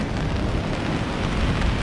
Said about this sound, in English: Look at that, Aberystwyth in the rain.